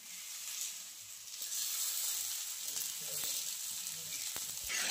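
Oil sizzles and fries steadily on a plain iron tawa, a continuous close hiss with faint scraping and light crackles throughout.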